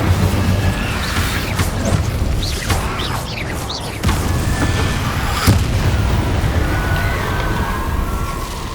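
Incendio fire spell cast in Hogwarts Legacy on PS5 Pro: a dense, loud wash of fiery blasts with deep booms and crackling bursts, swelling again near the middle and end amid busy combat effects.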